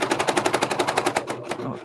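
A Janome sewing machine's knife strikes repeatedly through thick apron fabric, making a fast, steady run of sharp, close clacking hits that slows slightly toward the end.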